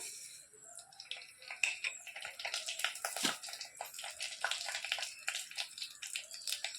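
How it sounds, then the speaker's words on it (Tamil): Mustard seeds spluttering and popping in hot oil in a kadai, a dense run of quick crackles and sizzles at steady moderate loudness, close by with no voices. "எண்ணெய் நல்லா காஞ்சிடுச்சு இப்போ கடுகு போட்டுக்கலாம்"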